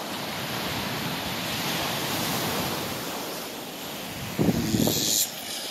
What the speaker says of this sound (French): regardez ça, les belles vagues